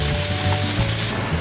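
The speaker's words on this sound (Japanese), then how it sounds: "そばを焼きます。" Cooked kawara soba noodles fry in a hot pan with a dense, loud hiss and crackle close by, brief and unbroken.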